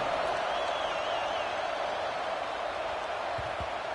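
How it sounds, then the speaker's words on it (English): A stadium crowd at a Wisconsin versus Florida football game keeps up a steady, distant buzz of many voices after a score, with a broadcaster's voice faintly above it. "this crowd is buzzing after that last score"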